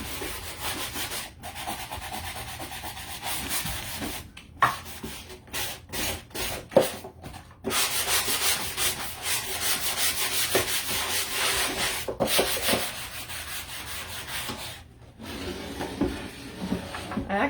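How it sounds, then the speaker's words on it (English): Hand sanding of a garage-sale wood shelf painted green: steady, close scratchy rubbing strokes that run nearly continuously, broken by a few short pauses, with no one talking over them. "I started to sand it, but I didn't sand it very good"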